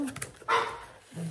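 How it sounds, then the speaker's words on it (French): A dog gives a few short barks close by, with a louder yelp in the middle and a brief whine near the end. "J'ai ma toutoune qui aboie là."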